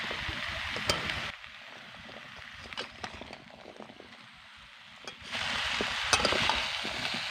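A pan of pumpkin curry with kabuli chickpeas is stirred slowly, with soft sizzling and scraping plus scattered spoon knocks against the pan, quieter in the middle stretch.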